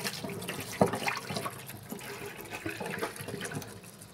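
Live fish tipped out with their water at a village fish market, a close, continuous pouring and splashing with small drips, no talk.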